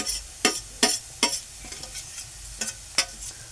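Ginger being sautéed with turmeric in a pan, heard as a few sharp spoon-scraping strokes against the pan over a faint sizzle, spaced irregularly and close by.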